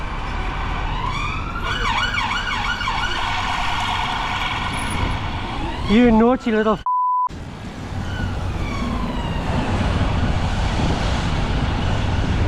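Emergency vehicle sirens wail loudly through city traffic, sweeping up and down in rapid repeated cycles over heavy road noise. A brief break cuts in partway through, then the wailing continues. Someone speaks briefly over the din.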